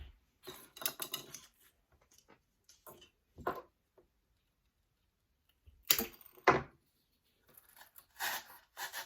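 Scissors snip through paper, cutting out egg shapes for an Easter bunny decoration, in short, close bursts of crisp cuts separated by pauses, with no talking.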